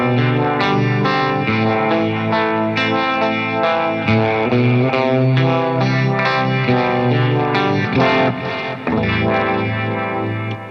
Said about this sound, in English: The way that I've got channel 1 set up, I've got a bit of gain and I'm pushing the mid so it starts to break up.